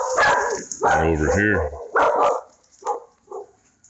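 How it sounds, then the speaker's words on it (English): A dog barks outdoors at a rural property in a few sharp, loud bursts, mixed with someone talking over it, with quieter barks trailing off at the end. "God knows what he's barking at."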